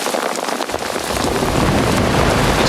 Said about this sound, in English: It just started raining about,